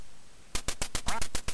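Ducks in a duck-hunting video game quack in a quick run of about eight sharp, evenly spaced calls, fairly loud over faint background hiss, with no talking.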